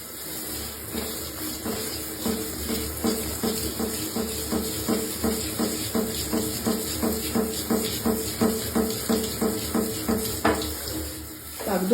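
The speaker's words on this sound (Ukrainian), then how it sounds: "Зараз я буду водичкою поливати." Orchids watered with a shower head spraying a fairly strong stream, a steady close hiss of running water with a regular pulsing rhythm through the whole stretch, and no clear speech over it.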